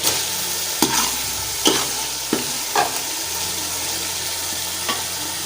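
Vegetables such as carrot, cauliflower and potato stirred and frying in a pan for a mixed vegetable curry, with a steady sizzle broken by several sharp stirring scrapes close by.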